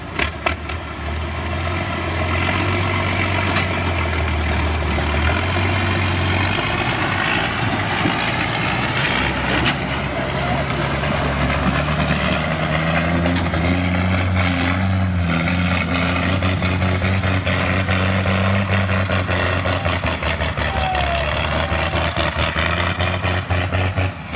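A truck engine runs in Haiti while the vehicle is worked free, its low rumble idling and then revving and straining steadily at close range across the whole stretch, with no talk.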